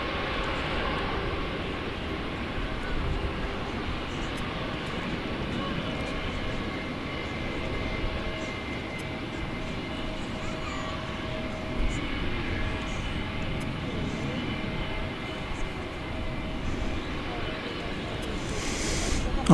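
A jet airliner takes off from runway 18 Left at Dallas Fort Worth Airport as a steady, broadband engine roar that holds for the whole stretch. It sounds fairly distant and continuous, with little rise or fall.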